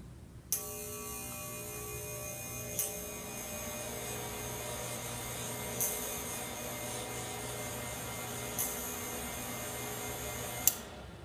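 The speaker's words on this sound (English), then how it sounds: "when I turned it on, you may have heard a loud humming noise, and that was the fan working" A Jacob's ladder high-voltage device's cooling fan hums steadily once switched on, a constant droning tone with faint periodic clicks or sparks, heard alone without talk.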